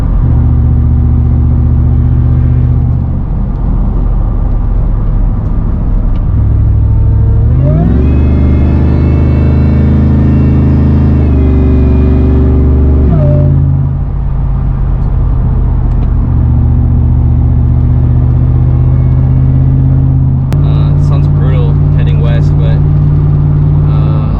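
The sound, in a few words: light truck driving and bouncing on the road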